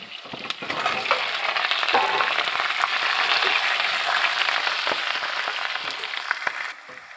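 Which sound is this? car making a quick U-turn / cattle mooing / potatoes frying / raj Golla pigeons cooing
potatoes frying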